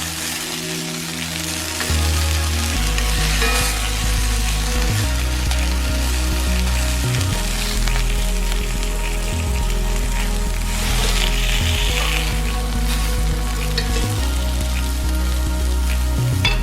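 Beef for birria tacos sears in a hot pan, a loud, dense sizzle and crackle going steadily throughout, with a low hum underneath and no one speaking.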